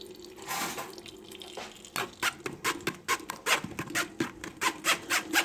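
Beet, carrot and ginger juice pressed with a spoon through a kitchen strainer, giving a run of close, irregular wet drips and splats that quicken into a steady patter.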